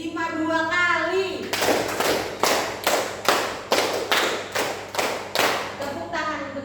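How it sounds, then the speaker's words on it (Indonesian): A group claps in rhythmic sets, a run of sharp, evenly spaced claps at moderate distance, preceded and followed by a voice speaking. "Tepuk tangan untuk kita semua."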